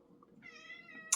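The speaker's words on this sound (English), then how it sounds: "But if you can hear that meowing, that's my cat." A pet cat gives one clear, drawn-out meow close by, ending in a brief sharp chirp, with quiet room tone before it.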